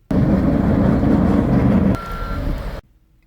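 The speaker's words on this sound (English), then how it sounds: "if you hear the beeping in the background" A snow plow truck's reversing beeps sound steadily over a loud engine rumble while clearing snow, close and prominent, then the noise drops and cuts off abruptly.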